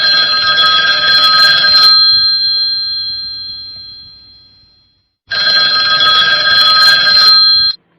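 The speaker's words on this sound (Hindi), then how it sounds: "टेलीफोन की घंटी बजी।" A telephone bell rings in two bursts of shrill, steady metallic tones, about two seconds each with a quiet gap between, set in a Hindi radio drama of a Saadat Hasan Manto story.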